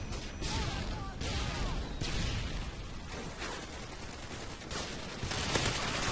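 Rapid gunfire from a PeaceMaker or Skorpion Evo in the video game Modern Warfare 2, with repeated bursts of shots running steadily and fairly loud throughout.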